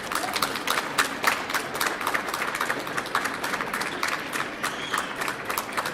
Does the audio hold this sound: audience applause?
yes